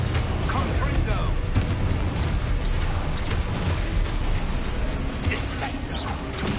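Confringo blasting spells in Hogwarts Legacy go off as repeated booming explosions and crackling impacts in a dense, loud flurry, while a voice shouts spell names over the barrage.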